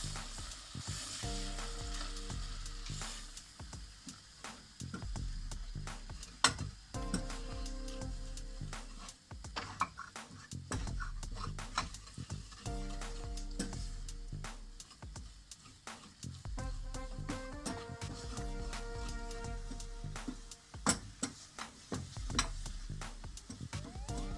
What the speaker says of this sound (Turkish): Erirken bir bardak unumuzu koyuyoruz. Un kokusu çıkana kadar bunu kavuracağız.